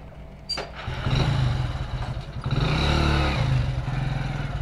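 A parked motorcycle starting up: a sharp starter burst, then the engine catches into a loud, throbbing idle that swells with a brief rev before settling into a steady rumble.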